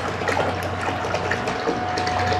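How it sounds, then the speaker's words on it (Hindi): A 12-volt donkey water pump pushes water through a pipe, producing a continuous gushing flow over a low motor hum, steady and close with no talking. "ये पानी का प्रेशर आ रहा है और मोटर भी बिल्कुल सही घूम रही है।"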